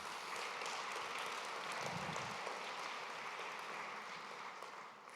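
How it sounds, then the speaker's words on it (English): An audience claps steadily for the Creating Space team at a panel event in San Francisco, a dense even wash of applause that tapers off slightly at the end. "So round of applause for the Creating Space team."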